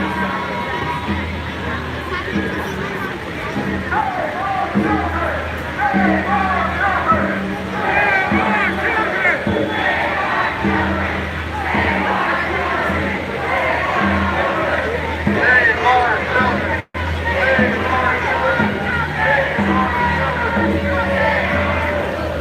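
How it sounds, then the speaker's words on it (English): A large protest crowd fills a city intersection at Hollywood and Highland, a continuous murmur of many voices with occasional shouts and cheers, steady and fairly loud, with talk close by over it. "there's a large crowd at the intersection of Hollywood and Highland"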